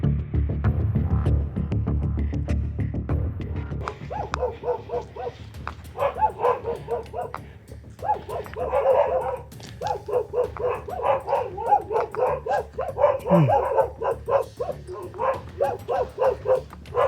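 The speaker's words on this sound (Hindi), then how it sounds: "ये ऐसे कुत्ते भौंकते हैं" Dogs bark repeatedly on a hillside jungle trek in Uttarakhand, the barks loud and fairly near, coming in quick irregular bursts over a low rumbling background, with some yips and whimpering mixed in.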